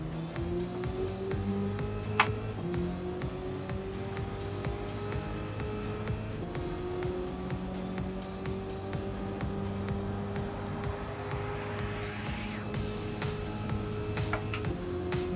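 Chevrolet Chevelle SS muscle car engine in Gran Turismo, droning steadily at high speed, then shifting pitch through gear changes as it downshifts, loud and continuous with no voices.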